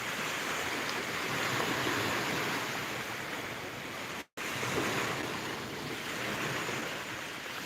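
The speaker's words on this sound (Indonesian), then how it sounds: "suara desiran ombak" Ocean waves wash continuously onto a beach in a steady broadband roar, with a brief dropout in the middle and no voices.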